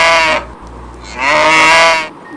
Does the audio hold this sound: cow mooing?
yes